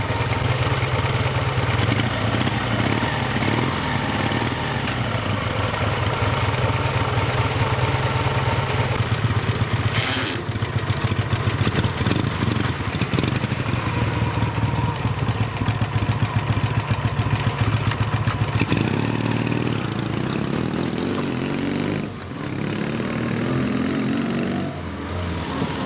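A Dnepr sidecar motorcycle engine idling loudly right after a cold start on a chilly day, a steady close throbbing rumble with mechanical clatter and slight fluctuations in revs throughout.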